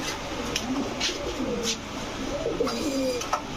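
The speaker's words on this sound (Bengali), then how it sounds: "লাল প্লেন চুইঠাল একটা মাদি কবুতর" Female pigeons, racer, Golla and Giribaz birds offered for sale, coo in a series of soft, rolling calls close by, with a few brief clicks and faint background noise.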